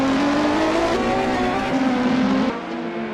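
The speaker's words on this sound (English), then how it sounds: "here come those BMWs, mainly the one in P2 in the Group 5 class" BMW Group 5 race cars at Le Mans in a 1985-set race pass close by with a loud, sustained engine roar, steady for several seconds before dropping sharply as they move away.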